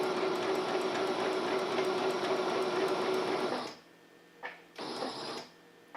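Sewing machine stitching a fabric pocket, running in one steady close mechanical whir for several seconds, then stopping, with a brief short burst of stitching after a pause.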